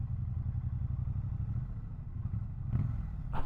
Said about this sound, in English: Okay, what does it feel just idling here? Not a lot of vibes. It just sounds so good.